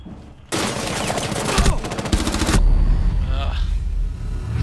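Rainbow Six Siege game gunfire: a loud sustained burst of automatic fire, then a second short volley and a trailing rumble, close and dominant.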